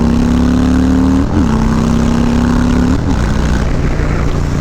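A motorcycle engine revving loud and close, holding a steady buzzing pitch, dipping briefly twice and then rising again, with no talk over it.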